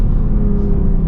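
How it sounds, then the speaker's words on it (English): Loud, close engine roar from a Lexus IS250 F Sport sedan as it downshifts, a steady rumbling rev heard from inside the car with no talking. "Look how fast this downshift is"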